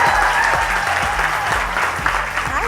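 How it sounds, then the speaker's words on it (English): A live audience at a stage event claps loudly and continuously, dense applause filling the room nearby with a few faint voices underneath. "Please put your hands together for Jayla."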